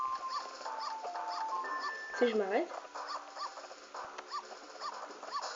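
A small dog in the video game Zelda: Majora's Mask gives repeated short, high yips and whimpers amid looping game music, with someone speaking briefly over it.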